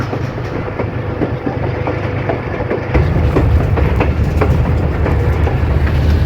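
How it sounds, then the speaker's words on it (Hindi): The Bolan Mail Express passenger train in Pakistan rolls along steadily with a loud, continuous rumble and rhythmic clatter of wheels on track, growing heavier partway through. "तो दोस्तों हमारी ट्रेन रवां तवां है अपनी मंजिल की तरफ"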